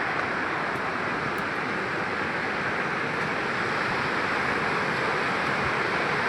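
The Bhagirathi waterfall near Vangani, swollen in the monsoon, pours with a loud, dense, unbroken roar of rushing water that holds steady throughout, with no other sounds over it.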